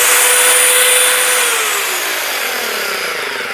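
A TE50 3-in-1 chipping and drilling power tool runs on test with a loud, steady motor whine that holds constant and then eases slightly as it winds down, with no talk over it.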